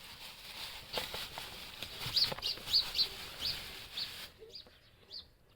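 A frizzle chicken with curled feathers clucks in short, fairly faint bursts, with some wing flapping and pattering amid soft background noise, and no talking.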